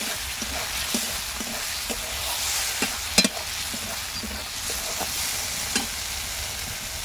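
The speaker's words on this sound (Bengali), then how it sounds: "এবার আমি ভেজে রাখা ডিমগুলো দিয়ে দিচ্ছি" Fried eggs stirred into a spicy masala in an oily pan, a loud continuous sizzle broken by repeated scraping and clacking strokes of a spoon, with one sharper knock midway.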